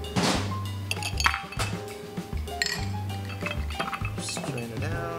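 A cocktail of bonded whiskey and rum agricole is stirred with ice in a bar mixing glass, giving steady, bright clinking and rattling of ice against glass over background music.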